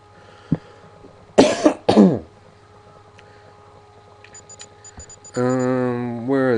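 A person coughs twice, close and loud, in quick succession. Game music and tones from a gold-rush video game follow afterward.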